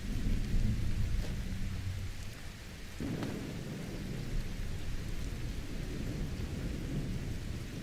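Heavy, steady rain with rolling thunder in Skyrim, a loud crack of thunder breaking partway through and rumbling on over the constant downpour, with no voices.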